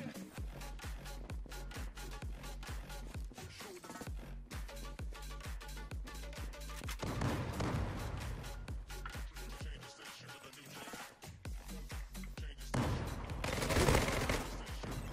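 Rapid bursts of automatic gunfire from the shooter video game Zula, loud and continuous, with dense rattling volleys and a few heavier blasts.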